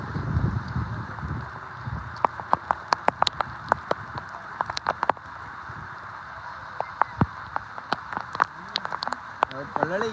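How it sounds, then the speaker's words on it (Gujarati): Rain falls onto surfaces outdoors, a soft wash broken by sharp, irregular drips and taps close by, with brief voice sounds near the start and the end. "ચાલો મિત્રો વરસાદ આવી રહ્યો છે"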